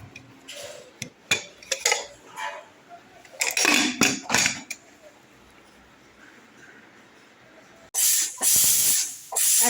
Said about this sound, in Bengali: একটা সিটি পড়ে গেছে